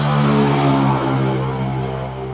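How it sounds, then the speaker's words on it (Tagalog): A motorcycle engine drones steadily nearby, a constant low humming rumble that holds level with only a slight dip, with no voices. "Ingay motor."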